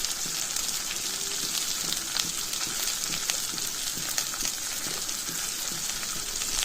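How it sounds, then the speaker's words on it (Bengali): Onion and garlic fry in hot oil in a pan, giving a steady crackling sizzle with dense spitting pops throughout, close and with no talk. "পেঁয়াজটা দিয়েও আমাকে বেশ অনেকক্ষণ ভাজতে হবে যতক্ষণ না পেঁয়াজটা সফট হয়ে যাচ্ছে"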